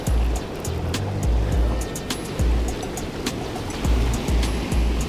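Strong, fast-rushing river water in a surging current, a steady broadband roar running throughout with low thumps and gurgles breaking through now and then, close and loud with no talking.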